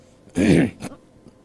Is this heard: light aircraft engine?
no